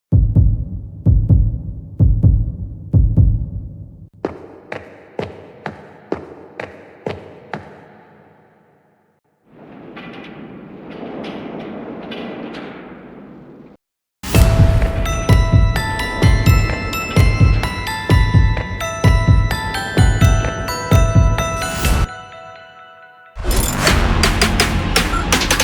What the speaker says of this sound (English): Add footsteps and heartbeat.